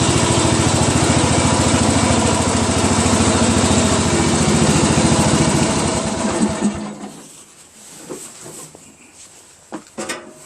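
A Craftsman LT1000 lawn tractor engine drones loudly and steadily while driving, then cuts off near the end, leaving quiet with a few faint knocks and clicks.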